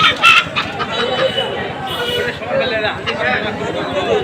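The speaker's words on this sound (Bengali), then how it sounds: "এখানে হাঁস, মুরগি বিক্রি হয় এই বাজারটিতে" Chickens and ducks clucking and squawking amid busy crowd chatter at a village market, with people talking nearby throughout.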